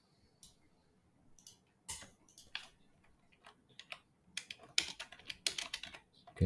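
Keys clack on a computer keyboard in irregular bursts, close and crisp, with scattered single taps building into quicker runs of typing.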